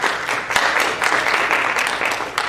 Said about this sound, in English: Go ahead and give a round of applause for Ms. Hannah Lee.